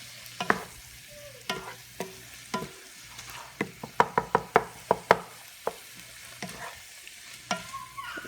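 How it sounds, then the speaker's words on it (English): Ground meat browning in a pan for spaghetti sauce, stirred with a utensil that knocks and scrapes in a quickening rhythm over a steady close sizzle. "I'm just mixing this around a little"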